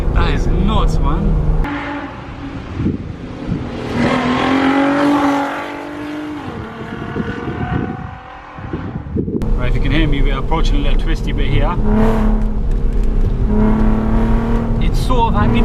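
A VW Golf R32 with its exhaust valves fully open revs and pulls hard on a twisty road, engine note rising and falling close by with wind buffeting, while someone talks over it throughout.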